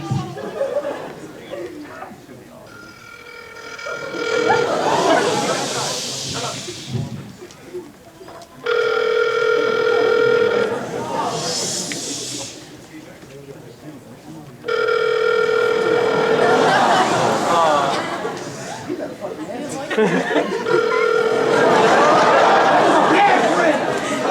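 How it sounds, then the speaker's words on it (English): A telephone dialed on speakerphone: repeated bursts of touch-tone beeps and a steady dial tone in a loud convention panel room, with crowd chatter and a voice talking throughout. "just dial it and put it on speakerphone and I'll do the rest"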